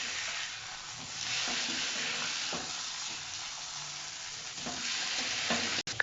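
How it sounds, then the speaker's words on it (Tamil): Fish frying in a pan, a dense steady sizzle and hiss throughout with a few soft clicks and scrapes as it is turned, close and with no one talking. "இப்போ மீன் ஒரு பக்கம் ஃப்ரை ஆயிடுச்சு."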